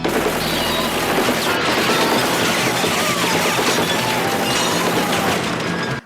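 Dense, continuous gunfire as drug dealers are shot down in the Chuck Norris film Code of Silence, a loud sustained barrage of overlapping shots and crashes lasting about six seconds, with no voices.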